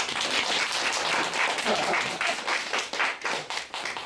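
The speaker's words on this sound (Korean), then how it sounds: "박수 한번 더" Dense, steady applause from an audience at a Korean real estate lecture, a loud continuous wash of many hands clapping that stays level throughout with no speech over it.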